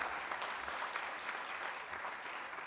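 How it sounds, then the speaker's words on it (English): A crowd at a felicitation ceremony in New Delhi's India Habitat Centre claps in an even, continuous round of applause that fills the room at moderate volume. "A big round of applause"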